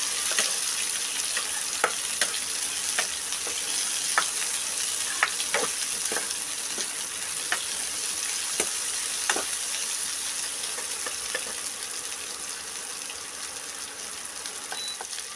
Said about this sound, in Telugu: వేసుకున్న తర్వాత బాగా వేయించుకోవాలండి.